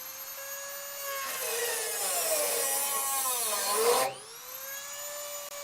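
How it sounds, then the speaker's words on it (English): A cutting tool zips through a rusted, leaking gas line on a Dodge crew cab truck, making a loud, sustained high-pitched whine that rises and strains while biting into the metal, then eases back to a lighter spinning whir. "I'm zipping the gas line out right now"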